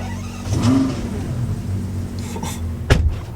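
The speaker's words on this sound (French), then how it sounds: "On est dans la 12 cylindrée et ça va être un cold start." A Ferrari 12Cilindri V12 fires up from cold, a sharp burst of revs swelling into a steady, rumbling idle, with a second brief blip near the end; loud and close, no voices.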